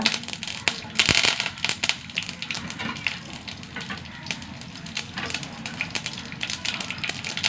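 Mustard seeds, dried chilli and curry leaves fry in hot coconut oil, giving a close, continuous sizzle broken by frequent sharp pops and crackles.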